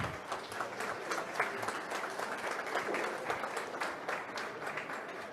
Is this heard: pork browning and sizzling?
no